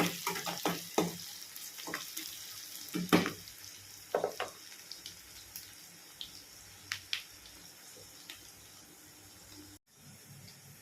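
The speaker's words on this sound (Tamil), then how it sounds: "வெங்காயம் நல்லா ப்ரௌனாக சவுண்ட் வந்துடுச்சு." Onions browning with masala powder and salt in a pan for a Tamil prawn greens stir-fry, giving an irregular crackling sizzle with scattered sharp spits and pops, close and steady, no voices.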